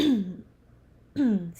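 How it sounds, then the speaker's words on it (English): Two short vocal throat-clearing sounds, close and fairly loud, separated by a brief pause. "Excuse me, I mean to clear my throat in your ears."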